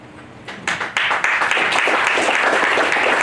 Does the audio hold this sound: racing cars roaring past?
no